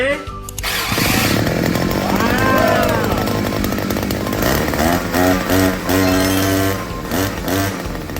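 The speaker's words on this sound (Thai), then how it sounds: "เปิดสวิตช์แล้วก็กดปุ่มสตาร์ทเลยนะ" A small engine fitted with a new push-button starter cover catches after a short start and then runs with a loud, steady buzzing drone that revs up and down, heard close by with speech over it.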